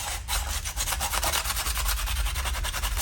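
Tin foil rubbed against rusty metal on a Royal Enfield Classic Bullet 500 motorcycle makes a close, rhythmic scratchy scrubbing, repeated quick strokes continuing steadily for a few seconds.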